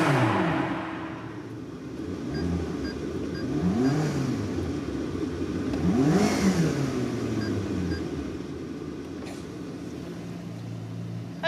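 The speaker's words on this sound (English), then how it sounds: "I made that car sound like this." A McLaren sports car with a tuned exhaust revs up through a couple of rising, sweeping engine pulls over a continuous low drone, loud and fairly close before settling back down.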